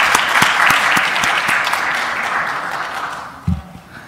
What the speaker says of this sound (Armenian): խնդրում եմ ծափահարություններով վերցնել